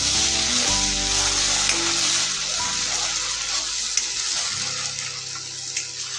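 Spice masala frying in oil in an iron kadhai, a steady bright sizzle that holds throughout with a few small pops.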